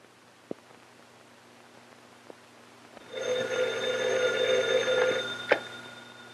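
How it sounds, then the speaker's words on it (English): An old-fashioned telephone bell rings in a 1930s mystery thriller, a steady electric trill starting partway through and sounding for several seconds, fairly loud and clear, with no talk over it. "Telephone. Telephone."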